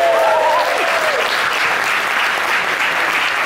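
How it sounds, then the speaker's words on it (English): Steady, loud audience applause for James Barr filling a conference hall at a student radio convention, dense continuous clapping from a large crowd, with a brief whistle or voice rising at the start. "So can I have a round of applause for James Barr?"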